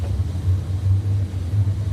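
A race car engine at a speedway, the number 74 car, rumbles at a distance in a low, steady pulsing drone with no talk over it.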